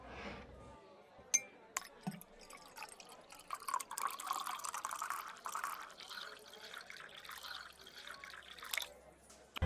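A drink is poured into a glass behind a bar, with a few bright clinks and then a long, quiet liquid trickle and splash, faint and a little muffled throughout.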